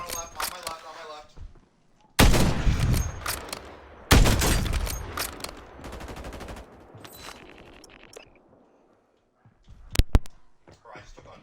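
Video game sniper rifle shots and gunfire crack loudly in sharp bursts, two big blasts followed by rattling fire and a later pair of shots, with a player talking between them.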